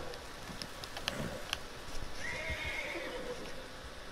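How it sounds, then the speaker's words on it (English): A wild horse in Red Dead Redemption 2 lets out a clear, rising whinny, preceded by scattered hoof clops and thumps, moderately distant over a quiet outdoor ambience. "Well, I found a wild horse, and I just knocked it over."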